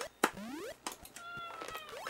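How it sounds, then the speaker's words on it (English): A cat meows several times in quick succession, short rising and falling cries close by, alongside electronic game sounds from an Atari game. "I hear a black and white cat."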